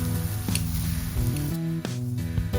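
Beef fajitas with bell peppers, onions and beer sizzle steadily in a hot pan, a continuous close frying hiss with a low, tonal hum running beneath it and no talk over it.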